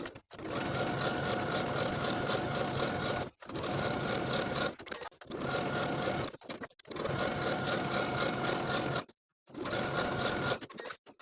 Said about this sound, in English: Sew in place with a 5/8 inch seam allowance using your preferred stretch stitch.